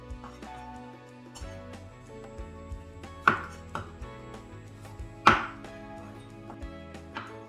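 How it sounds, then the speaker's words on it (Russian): Knife chopping potatoes into large chunks on a cutting board, a few sharp separate cuts over soft kitchen background noise. "И картошка тоже должна быть крупно нарезана."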